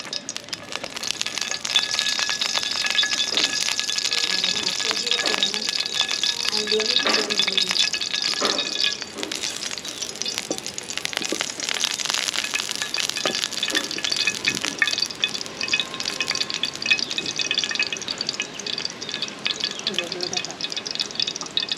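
Sliced onion and garlic frying in pure mustard oil in a village kitchen, a dense continuous sizzle up close with occasional clinks of a utensil, and a voice talking faintly over it.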